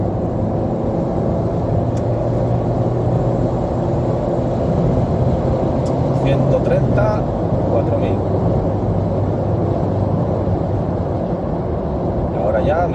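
A Dacia Sandero Easy R accelerates in second gear, its engine drone and road noise rising steadily from inside the cabin while someone talks over it.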